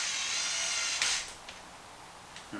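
Screws run into new aluminum steering blocks on a Traxxas Maxx RC truck with a 2.5 driver: a steady close whir for about a second, then a few short, softer mechanical bursts near the end.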